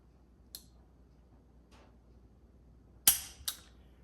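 A Colt revolver dry-fired in double action, the trigger pull ending in a single sharp hammer snap followed by a second lighter click, with a few faint mechanical ticks earlier in an otherwise quiet room.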